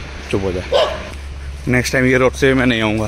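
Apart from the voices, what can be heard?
dog barking on a dark road at night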